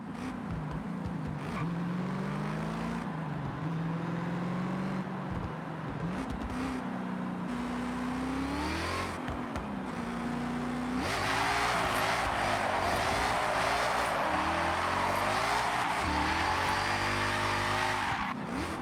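A car with an upgraded supercharger accelerating hard, engine note rising and falling through revs with a loud supercharger whine building toward the end, close and continuous without talking.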